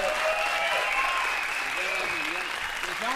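Studio audience applauding on a 1994 Icelandic TV talk show, a steady dense wash of clapping throughout, loud and close, with a voice speaking over it.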